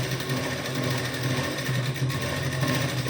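A sewing machine stitches the shoulder seam of a lehenga blouse with a continuous, even mechanical whir and rapid needle chatter close by, with no talk.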